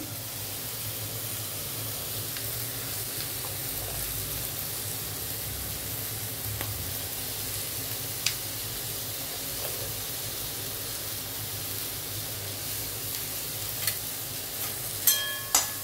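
Green chillies and ginger fry in a pan for muri ghonto, giving a steady close sizzle throughout with a few faint clicks and taps near the end.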